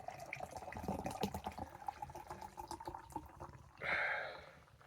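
Canned nitro stout, Guinness Draught or Dorothy Black Irish Stout, is poured into a glass as a faint, uneven liquid splashing and gurgling, ending in a short hissing fizz.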